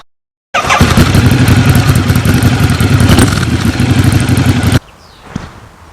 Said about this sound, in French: ma moto tourne